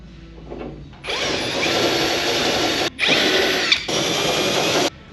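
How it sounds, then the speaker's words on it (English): A power drill with a regular bit boring into the steel body of a Firebird near the deck lid, running loud and steady in three close bursts separated by brief stops. "a regular drill bit, less chance of tearing the metal or distorting the metal"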